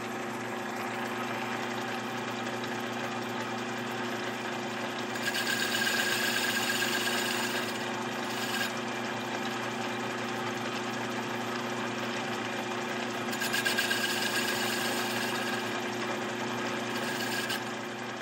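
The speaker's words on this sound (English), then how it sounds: "I stick it on a lathe just to make it good and proper" A lathe squaring off the cut end of a metal pipe for a filter can, with a steady motor hum and two longer bursts of brighter cutting noise from the tool against the pipe.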